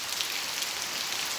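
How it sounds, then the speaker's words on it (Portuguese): Heavy rain pours steadily, a dense hissing wash of drops on surfaces with a strong water current beneath it, close and constant with no talking. "eu tô chegando um pouco mais perto pra vocês verem como que tá a chuva aqui"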